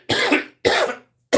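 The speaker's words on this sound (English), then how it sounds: "I'm always coughing." A man coughs twice in quick harsh bursts, close and loud, with a third cough just starting at the end.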